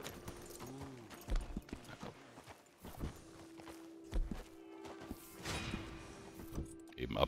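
Horse hooves clip-clop on the ground in an uneven walking rhythm in the video game Red Dead Redemption 2 Online, with game ambience and a low hum beneath.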